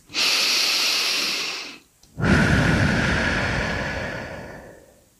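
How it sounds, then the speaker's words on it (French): A deep, steady inhalation followed after a brief pause by a long, slow exhalation, close and fairly loud, during a calm sophrology relaxation exercise, with no talking. "vaste inspiration et je souffle l'air"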